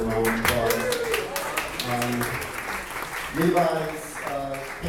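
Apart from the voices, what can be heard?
audience applause at a benefit event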